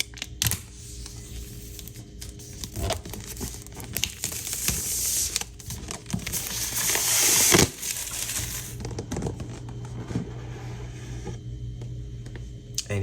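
Pull tab being ripped open on the box of a space gray 14-inch MacBook Pro, a long close tearing and crinkling of paper and cardboard with scattered clicks and rustles throughout.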